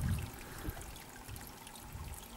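Water from a shallow natural spring at Vrbanjci flows in a faint, continuous trickle, quiet and alone.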